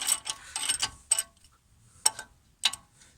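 A ratchet with an extension bar undoes a front brake caliper bolt on a 2003-2008 CL7 Honda Accord, giving several close, sharp metallic clicking bursts separated by short pauses, with no talk.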